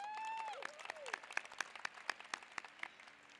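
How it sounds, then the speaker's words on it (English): Applause at a 2018 commencement ceremony, scattered claps that start out thin under a fading voice and then settle into a light, uneven patter from a moderately sized crowd. "give yourselves a round of applause"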